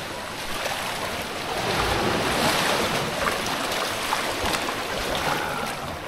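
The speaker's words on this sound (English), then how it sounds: "The water getting hella aggressive over here." Rough, aggressive ocean surf at an Indonesian beach, a steady roar of breaking waves with wind buffeting the microphone, swelling louder midway and staying close and continuous with no talk.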